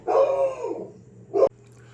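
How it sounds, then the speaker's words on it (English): A dog barks indoors at a leaf blowing past on the sidewalk: one drawn-out bark, then a second short bark, heard at a moderate distance over a steady low hum. "dog's freaking out over a leaf blowing by the sidewalk"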